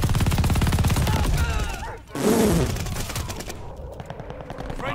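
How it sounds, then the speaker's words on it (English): Rapid automatic gunfire from a machine gun in Call of Duty: Vanguard, loud dense bursts that nearly fill the first two seconds, then a break and further sustained firing with shooter-game effects. "I just emptied a whole mag into this guy"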